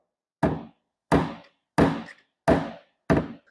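Five evenly paced hammer blows on a dent repair punch held just off a steel car panel, each a hollow, slightly woody knock with quick decay, close and moderately loud, no voices.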